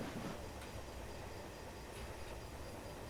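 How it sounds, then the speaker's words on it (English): A diesel locomotive rolls along at steady speed in Train Simulator Classic on the Kalamazoo Terminal Railway, giving a continuous low rumble and rail noise with faint clicks, quiet and unbroken. "Again, diesel locomotive."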